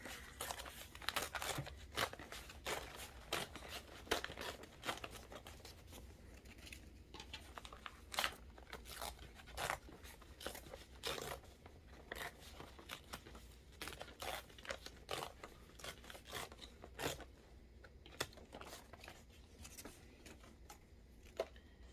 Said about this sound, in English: And then we get to tear away the stabilizer.